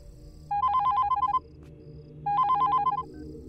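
A telephone ringing in two warbling electronic bursts of about a second each with a pause between, fairly loud over a low room hum.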